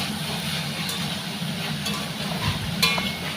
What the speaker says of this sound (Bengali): তো এটা ভালো করে আর কি ভেজে নেব